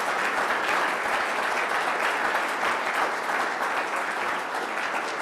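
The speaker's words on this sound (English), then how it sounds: "Can we give Jean a round of applause for his presentation?" Steady applause from an audience after a presentation about a House of Hope project in Madagascar, continuous dense clapping at even loudness throughout with no break.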